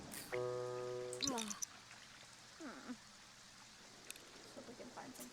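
Steady rain falls in a life-simulation video game, a soft continuous wash beneath game chimes, short tonal effects and brief murmured character sounds.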